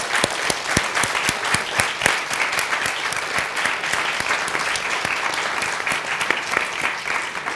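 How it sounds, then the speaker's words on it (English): Sustained audience applause for a panel of speakers at a Brown at 60 equality event, dense steady clapping filling the room at even loudness throughout, with no voices over it. "Please give a round of applause to our brilliant panelists."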